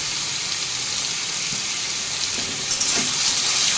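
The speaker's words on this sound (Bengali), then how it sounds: "আলুটা ভেজে নেব।" Potato pieces with a little salt sizzling steadily in a hot pan, a loud continuous hiss with faint stirring scrapes near the end.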